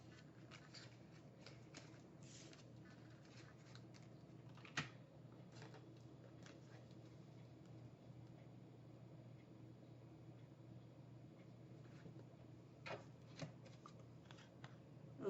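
Tarot cards being gathered up and cleared off a table make soft, continuous shuffling and sliding, with a few light taps and clicks, heard close and quiet with no talking.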